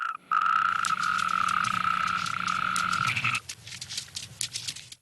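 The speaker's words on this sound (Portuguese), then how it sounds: "Sapos e rãs não são a refeição favorita." Frogs and toads croaking in the wild Iberian countryside, a loud close steady trilling call that breaks off into scattered rough croaks and rustling.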